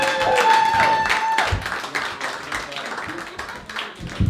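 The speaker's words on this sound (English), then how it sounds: "Clap for Paul Marroquin!" Audience at an open mic stand-up comedy show applauds comedian Paul Marroquin, a dense wash of clapping with a few shouts and whoops throughout, loud and close.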